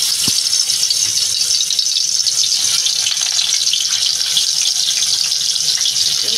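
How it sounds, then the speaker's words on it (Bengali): Small local puti fish hit hot oil in a pan, raising a loud, steady, hissing sizzle that holds evenly throughout with no talking. "তেলটাও আমার গরম হয়ে গেছে, আমি এবার একটা একটা করে মাছ দিয়ে দেবো।"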